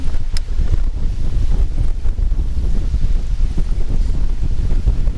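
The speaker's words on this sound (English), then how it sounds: "Of course, we got crazy wind." Strong gusty wind buffets the microphone on a lake during a bass fishing outing, a heavy low rumble that churns continuously and loudly with no voices.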